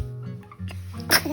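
One small, sharp baby sneeze bursts out near the end, loud and close, after a moment of quiet background hum.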